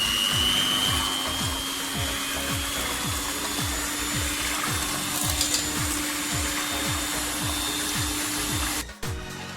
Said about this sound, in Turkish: Karışımım pürüzsüz olana kadar güzelce bir çırpıp mikserden geçiriyorum.